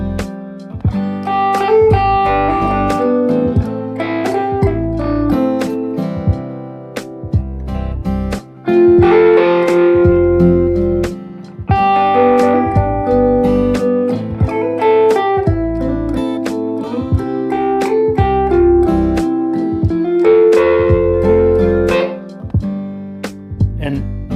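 An electric guitar plays through a run of triad chord shapes, with plucked notes and strummed chords in a steady, moving progression. The guitar is loud and close, with no talking over it.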